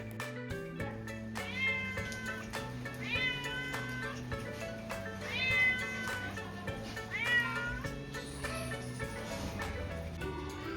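A cat meowing repeatedly, several drawn-out rising and falling calls spaced a couple of seconds apart, close by over a steady low background hum.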